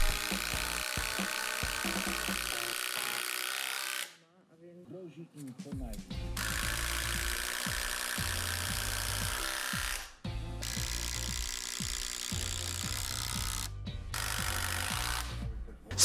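A power screwdriver drives long carpentry screws into wooden crossbeams of a pergola. Loud, close whirring runs in long bursts, broken by short pauses where the motor winds down and stops.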